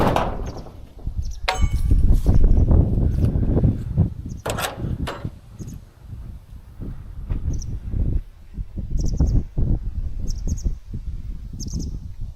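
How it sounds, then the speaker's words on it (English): A white wagtail calls in short, high chirps that come every second or two, fairly faint, over steady outdoor rustling and the clatter of handling. "It's a loud little bird right there."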